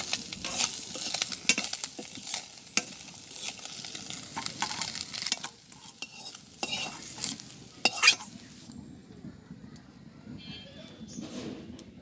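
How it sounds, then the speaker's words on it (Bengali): Small local fish fry in oil in a pan over a village kitchen fire, giving a soft sizzle broken by utensil scrapes and clinks while a person talks. "তো আমার এই মাছগুলো ভাজে হয়ে গেছে,"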